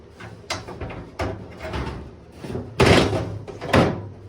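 A truck window being dropped into the door of a 1973-1979 Ford pickup, heard as several hollow thunks and rattling knocks of glass and metal, close and loud, spaced irregularly with brief pauses between.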